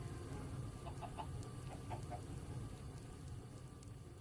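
Chickens clucking in the Minecraft modpack GregTech New Horizons, a few soft clucks in short clusters over a low steady background hum, faint and without talk.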